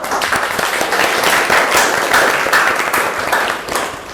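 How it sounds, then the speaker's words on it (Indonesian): Students in a university classroom clap for a good answer during a copywriting lesson, a close, busy patter of many hands that stays steady before tapering slightly at the end. "Oke, tepuk tangan dulu."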